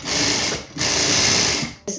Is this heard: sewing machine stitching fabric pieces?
yes